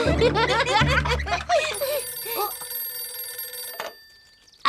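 Telephone ringing in a cartoon scene, a trilling bell that sounds over laughter and chatter, then rings on its own more softly before cutting off.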